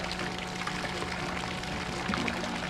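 Water from an air lift pump pours and trickles continuously at close range, a steady splashing flow with a faint low hum underneath.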